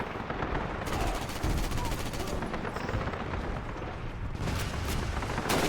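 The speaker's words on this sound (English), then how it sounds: "Got a bit of a gunfight over here." A gunfight in Call of Duty: United Offensive, with dense, continuous machine-gun fire and explosions that fill the whole stretch loudly and without pause.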